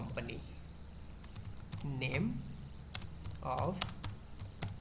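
Computer keyboard typing while a resume is written in MS Word: scattered soft key clicks and taps under steady spoken instruction.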